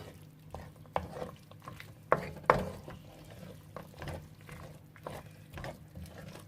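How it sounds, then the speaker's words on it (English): A vegan meal-kit dish with cashew nuts, beans and seasoning is stirred in a pan, soft scraping strokes and light taps over a faint sizzle, quiet and close. "you can watch whilst I give this a quick stir"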